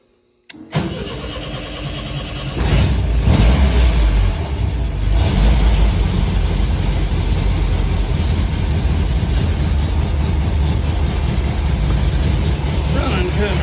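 An MGB engine cranks briefly, catches and settles into a loud, steady idle that runs on unbroken, slightly rich-sounding and close by.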